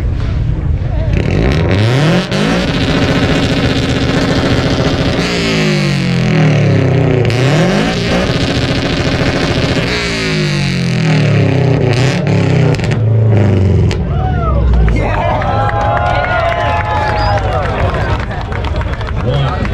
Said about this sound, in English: Loudest exhaust from last year.